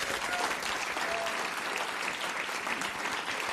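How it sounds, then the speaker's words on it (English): Audience at a young musicians' competition finalist announcement giving a continuous, even round of applause, dense and steady clapping from a large crowd with no pauses. "Should we give you a round of applause?"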